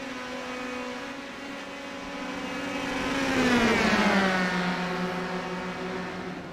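Open-wheel race cars in a sim racing game at NJMP scream past, with overlapping engine notes climbing and falling in pitch and swelling to a peak midway as the cars close in and drag race toward the first turn.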